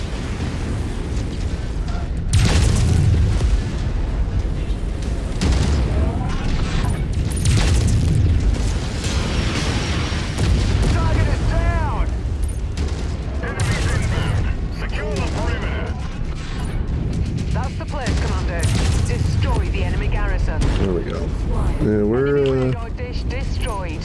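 Mechwarrior 5: Mercenaries combat, with mech weapons firing and explosions booming in a dense, continuous barrage and clanking mechanical noises throughout, while voices talk over the action.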